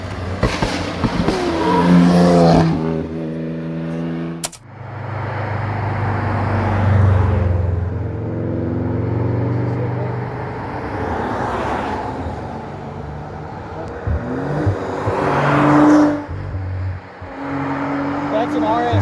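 An Audi RS6 sedan flying past at Tougefest, its engine note climbing loudly through the revs as it approaches, with a sharp gearshift crack, then a long roaring pass and fade as further revs echo, while people talk nearby.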